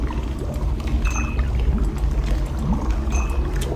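Ink pouring into water in The Black Mirror game, a steady watery splashing and trickling pour that runs continuously and fairly loud, with no voices over it.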